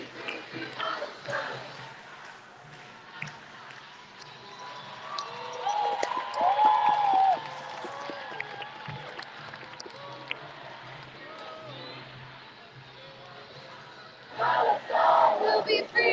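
A protest crowd at a Palestine rally on a New York City street chants and shouts, with rhythmic group chanting surging loudly near the middle and end and a steady crowd murmur in between.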